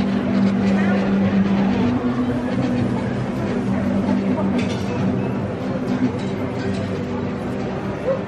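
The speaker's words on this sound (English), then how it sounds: "There's a race game here." Racing arcade game machine in a seaside amusement arcade in Porthcawl, giving a steady electronic engine drone with a constant hum that fills the whole stretch over busy arcade background.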